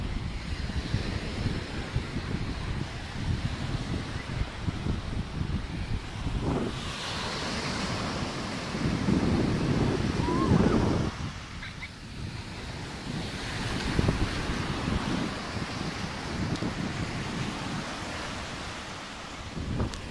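Sea waves rolling onto Apúlia beach in Portugal, a continuous broad surf wash with swells building and breaking in slow surges, mixed with wind buffeting the microphone and no voices.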